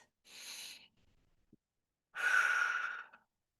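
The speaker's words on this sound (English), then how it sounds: "We want to take deep belly breaths as we do this." Two deep, slow breaths close up during a relaxation session, a soft inhale followed after a pause by a louder, longer exhale like a sigh, with near silence between.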